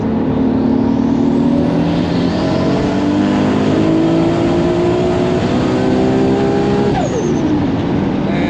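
A 1200 bhp Toyota Supra engine roars loud and close, climbing steadily in pitch through a long hard pull, then drops sharply near the end as the revs fall away.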